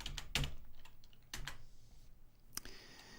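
Typing a command on a computer keyboard to calibrate all channels: several sharp key clicks spread unevenly over a few seconds, close and fairly quiet, with no talk.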